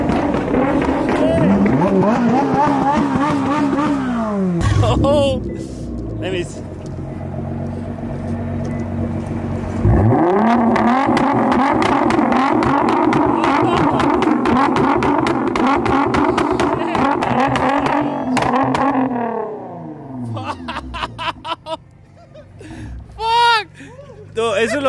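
A car engine revs hard and loud, its pitch sweeping up and down through repeated accelerations before cutting off, while people talk excitedly over it.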